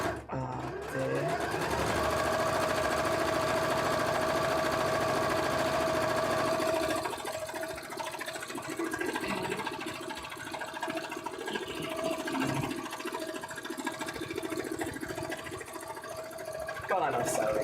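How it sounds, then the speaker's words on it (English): Sewing machine stitching a long seam in one loud, continuous run with a steady motor hum that barely changes over many seconds, close to the microphone. "God, I love sewing."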